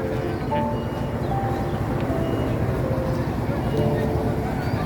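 A local passenger train running between Rajshahi and Rohanpur, heard from inside as a steady, loud rumble of wheels and carriage noise, with people talking over it throughout.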